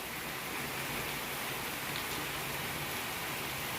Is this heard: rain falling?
yes